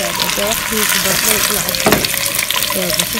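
Mixed vegetables with carrots fry in a cooking pot, giving a steady, close sizzle that runs the whole time, with faint background voices and a brief louder stir near the middle.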